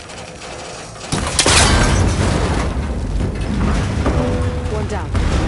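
A shot strikes and snaps a cable connector on an ancient, rickety tower in Horizon Forbidden West, a sudden loud impact with a metallic crack and clatter, followed by a sustained mechanical rumble and jangling under game ambience.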